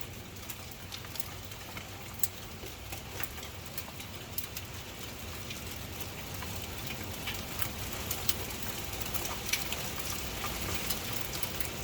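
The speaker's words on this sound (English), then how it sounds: "We got hail." Hail falling steadily outdoors at night, a dense, continuous patter with scattered sharper impacts, fairly loud and unbroken with no talking.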